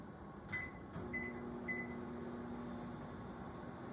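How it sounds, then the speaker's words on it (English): A microwave oven runs at half power while melting chocolate, giving a low, steady hum with a few short beeps and clicks near the start, recorded up close and quiet with no talking. "you can stick it in the microwave and cook it for 1 minute at half power"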